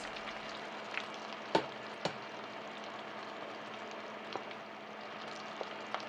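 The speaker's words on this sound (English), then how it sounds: "Now I'm frying 4 at a time based on my pot size." Colossal shrimp deep-fry four at a time in a pot of oil with a quiet, steady sizzle and bubbling, broken by a few sharp pops and crackles.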